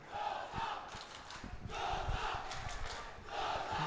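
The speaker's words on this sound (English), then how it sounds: "now the crowd of both teams are getting behind their respective school teams" A school rugby crowd at the St. Joseph's College versus Dharmaraja College Milo President's Trophy semi-final cheers and chants in loud, rhythmic surges, swelling and easing in repeated waves from a packed stand.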